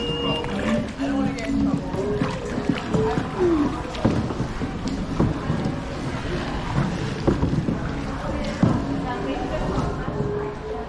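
Kayak paddling on Ha Long Bay, with steady water splashes and paddle strokes close to the microphone, mixed with wind noise, under ongoing conversation and an excited voice.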